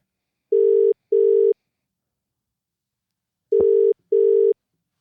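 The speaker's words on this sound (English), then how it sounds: "Tell me if you can hear it ringing in your ears." A phone ringback tone sounds in two pairs of short beeps separated by a long silence, clean and steady.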